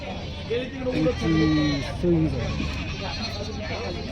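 Goats bleat several times at the Belhe goat market, their wavering calls rising close by over a steady murmur of crowd chatter and people talking.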